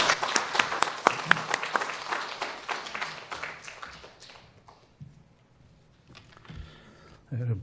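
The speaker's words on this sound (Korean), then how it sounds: "선교사님 나오실 때 박수로 환영하겠습니다" Congregation applause in a church service welcoming a missionary to the front, a dense burst of many hands clapping that thins out after a few seconds, followed by quieter shuffling and a brief renewed rise at the end.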